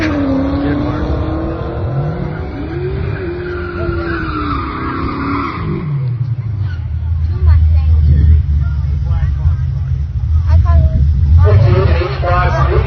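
A 2003 Ford Mustang Cobra launching down a drag strip on street tires, its engine roaring loudly with tire squeal and a rising then shifting engine note, with crowd chatter mixed in.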